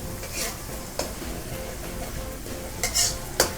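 Eggplant stir-fried in a pan, a steady close sizzle with stirring scrapes and a few sharp utensil clinks against the pan near the end.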